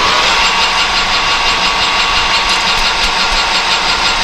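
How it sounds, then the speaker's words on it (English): A machinist's lathe runs steadily, center drilling a steel shaft, with a loud, even mechanical hum and whine that hold constant throughout without talk. "We're going to go in here and center drill it."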